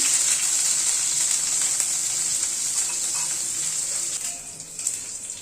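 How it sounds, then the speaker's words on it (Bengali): Bitter gourd frying in a hot pan, a steady close hiss and sizzle throughout that thins slightly toward the end, with no talk. "উচ্ছেটাকে একটুখানি ভেজে নিচ্ছি"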